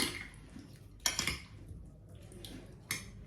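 A utensil stirs and clinks against a bowl while ingredients are mixed for a yogurt and tamarind chutney dish, with soft wet squishing and a few sharper scrapes and taps, close and fairly quiet.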